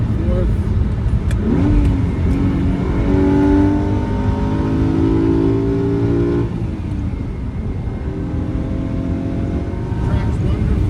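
A 1974 Ferrari 246 GTS Dino's engine pulls hard through the gears on a road test, its rising tone climbing, easing briefly, then climbing again. Someone talks over the engine.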